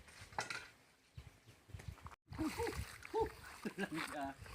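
People wade into cold water to set a dragon trap, with splashing and sloshing close by as they step in, heard beneath their continuous talking.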